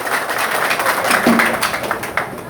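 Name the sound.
audience of agents applauding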